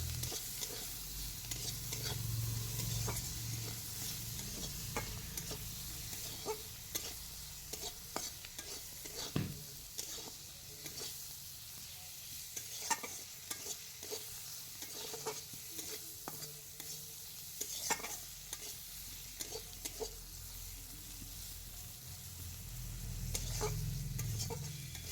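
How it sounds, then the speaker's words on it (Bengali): Sliced bitter gourd fries with onions in a pan, giving a soft, continuous sizzle broken by frequent scraping stirs of a spatula, close and quiet, with no talk. "এবার উচ্ছেটিকে পেঁয়াজের সঙ্গে ভেজে নিব।"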